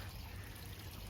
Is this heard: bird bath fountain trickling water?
yes